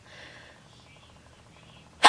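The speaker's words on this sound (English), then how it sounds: "oh, I'm gonna sneeze." A single sudden sneeze bursts out loud and close at the very end, after a quiet stretch of faint background noise.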